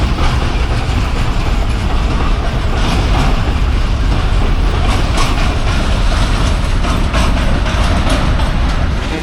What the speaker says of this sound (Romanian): Uite, trece și trenul.